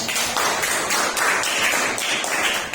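A school class applauds, a steady wash of many hands clapping together at close range, fairly even and sustained with no talking over it.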